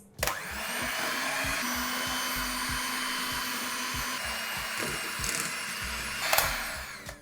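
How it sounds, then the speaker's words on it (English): An electric whisk runs steadily through cake batter and a butter mixture, a constant high motor whine with rhythmic low thumps as the beaters churn, holding level for several seconds before a brief clatter at the end. "I'm going to whisk this again for a couple of minutes"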